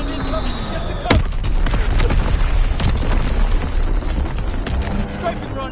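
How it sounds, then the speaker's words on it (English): Sharp booming blasts and rumbling explosions from enemy bombs and artillery in a PS4 war game, one big hit early then continuous thundering impacts, loud and close, with in-game radio voices calling out under the din. "Dropping A-zone bomb. Enemy bomb incoming."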